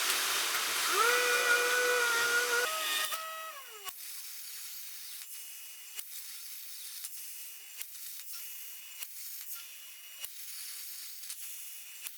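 A CNC plasma table cutting metal gives a loud hissing, whistling arc with shifting tones for about three seconds, then a quieter steady hiss with periodic short clicks and ticks.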